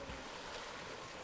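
Sea waves wash against the shore at Coldingham Bay, a brief soft surge of water with a wind-like hiss, steady and fairly faint.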